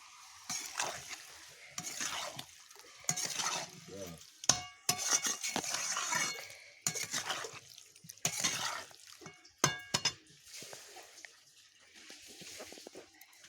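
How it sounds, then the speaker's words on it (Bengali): Chicken is stir-fried in a spiced masala with salt, giving repeated bursts of scraping and stirring against the pan over a steady sizzle, with wet clattering strokes and short pauses between them. "আমি চিকেনটা কষিয়ে নিচ্ছি"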